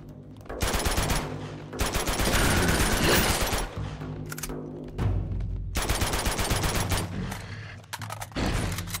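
Gunfire in the video game Uncharted 2, dense bursts of automatic weapon fire and rapid shots in several loud volleys separated by short pauses.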